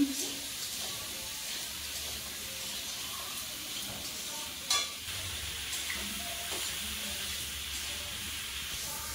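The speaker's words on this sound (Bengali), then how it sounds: "দিয়ে ফুলকপি ভেজে নেবো।" Cauliflower frying in oil in a pan makes a constant close sizzle and hiss with faint stirring, broken once by a single sharp clank near the middle.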